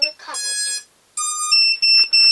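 A ViFly Finder 2 drone finder alarm beeps in sharp, high-pitched bursts, with several short tones repeating in quick succession, loud and close.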